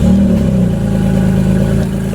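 A truck engine runs loud and close, holding a steady idle with a slight rev near the start and no voices over it.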